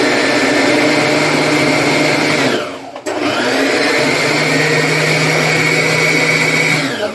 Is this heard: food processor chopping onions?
yes